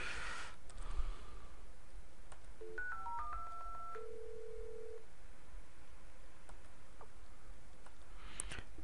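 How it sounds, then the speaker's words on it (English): A sequence of telephone keypad tones as a number is dialed on a PSTN line through a Cisco CUCM 8.5 phone system: several short steady beeps in quick succession, then a longer held tone, clear against a faint steady hiss. "So let's try to dial this number on the PSTN."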